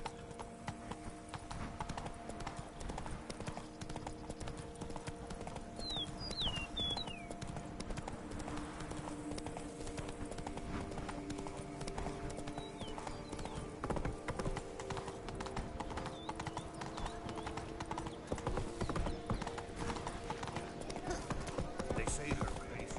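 Hooves of Roach, a horse in the video game The Witcher III, beat a steady rapid clip-clop of galloping throughout, with a faint voice and soft background ambience underneath.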